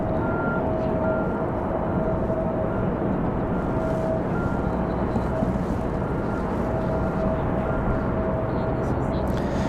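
A Delta CRJ regional jet taxiing at Raleigh-Durham airport to turn around, a steady engine whine and broad rumble holding constant throughout at moderate distance.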